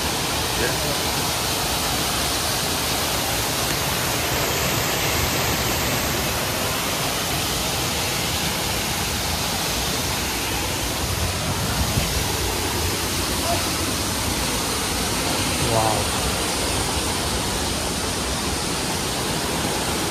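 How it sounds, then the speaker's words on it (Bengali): The waterfall at Rock Garden in Darjeeling, North Bengal, running full of water: a loud, steady, close roar of rushing water throughout, with a voice faintly under it. "এখন দেখতে পাচ্ছেন ওয়াটারফলসে জল কিন্তু আছে অনেক এখানে।"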